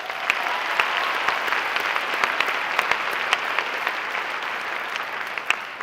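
Steady applause from a pageant audience, a dense, even wash of clapping hands that carries on without a break, with no voices over it.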